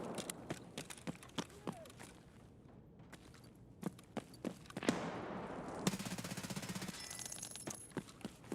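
Bursts of MP7 submachine gun fire in a first-person video game, short rapid volleys of sharp cracks separated by pauses, close and loud with other game noise between them.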